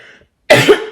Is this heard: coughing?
yes